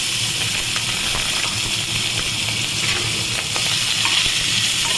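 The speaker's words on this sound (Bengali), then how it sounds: "এবার এই চিংড়ি মাছটা আমি ভেজে নেবো" Salted shrimp fry in a little oil in a wok with a loud, dense, continuous sizzle and crackle, close up and unbroken, with light stirring.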